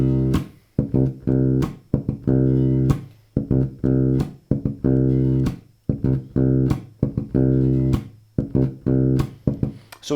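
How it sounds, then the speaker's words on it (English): A slightly overdriven bass guitar plays a funky repeating pattern starting on C, with sustained notes broken up by short muted ghost-note clicks in a tight, even rhythm, heard alone and close. "So the pattern that we're going to use sounds like this. We're going to start on the C there."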